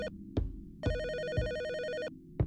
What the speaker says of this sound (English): Where is the phone at?